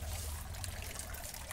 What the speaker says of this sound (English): it drips out two different ways. One, nice little waterfall.